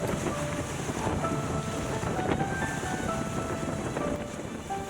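Wind noise rushes steadily aboard a racing sailboat during the Lysekil offshore race, a loud, continuous broadband roar mixed with water and hull sounds, with no talking.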